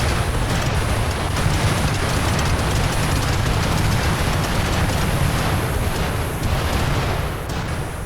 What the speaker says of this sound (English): Once the detonations had ripped through the building